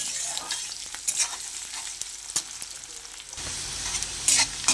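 Onion fries in hot oil while it is stirred, giving a steady crackling sizzle with scattered scraping clicks of the spatula and a louder burst of sizzling toward the end.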